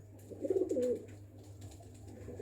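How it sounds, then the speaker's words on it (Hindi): A pigeon of the MeraDona breed, bred from Ali-wala stock, gives a soft, low coo, a short burst of rolling notes, then falls quiet. A faint steady hum sits behind it. "ये एक कबूतर है"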